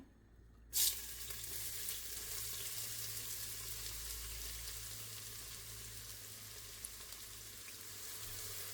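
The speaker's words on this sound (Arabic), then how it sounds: "بعد ما سخن الزيت كويس نحط البصل" Onions dropped into hot oil: after a quiet moment a sudden burst of sizzle erupts, then settles into a steady, even frying hiss with a low hum underneath, no talking.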